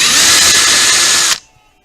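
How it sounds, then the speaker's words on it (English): A loud, steady power drill whine runs for over a second while drilling a Kydex holster, then cuts off abruptly, leaving a faint fading hum. "Let the drill do the work."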